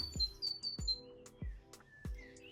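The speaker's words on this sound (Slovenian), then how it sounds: "Ja, tega ptiča mislim. To se sliši v mikrofon." A small bird outdoors gives several short, high chirps and whistled notes at a moderate distance, mixed with repeated low thumps from people moving nearby.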